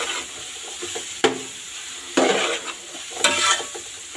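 Sliced capsicum stir-fried in a pan, a continuous sizzle punctuated by three sharp scraping tosses of a utensil against the metal, close and fairly loud with no talking.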